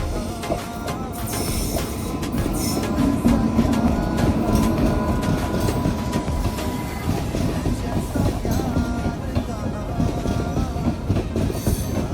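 Train rolling past a railway crossing, a loud continuous rumble with rhythmic clickety-clack of wheels and occasional squeal, close and sustained throughout.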